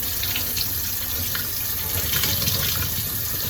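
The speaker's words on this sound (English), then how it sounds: "You're gonna wash until your water is running clear." Tap water runs steadily into a sink while freshly tie-dyed fabric is rinsed under it, a continuous close splashing rush that holds for a few seconds with no talking.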